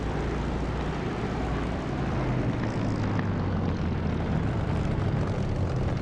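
A propeller aircraft engine in the DCS flight simulator game drones loud and steady, rising slightly as it is revved, with no voices.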